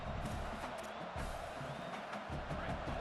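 A stadium crowd in the video game EA Sports College Football roars in a steady wash of distant cheering, moderately quiet and continuous throughout.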